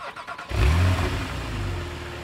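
A Porsche, lacking its sport exhaust, cranks and fires up with a deep, close engine roar, then a rev that settles into a strong, steady rumble.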